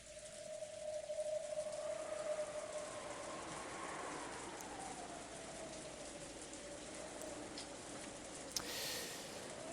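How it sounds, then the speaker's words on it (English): Soft, steady rain hiss from the Umineko: When They Cry video game plays quietly as an even background wash, with a faint low tone drifting beneath it. "Outside it was still raining."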